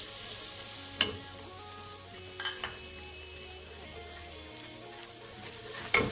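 Whole spices (fenugreek seeds, cumin and fennel) with dried fenugreek leaves frying in a pan for Lahori chickpea curry, a steady soft sizzle with a sharp clack at the start and end and a few stirring scrapes in between.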